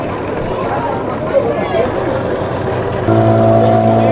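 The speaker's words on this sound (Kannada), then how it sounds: "ಬೋಟ್ ಹೊರಡ್ತು ನೋಡಿ" A boat pulling away from the Ooty boat house, its engine droning steadily and rising into a louder tonal hum near the end, under a busy crowd of people talking nearby.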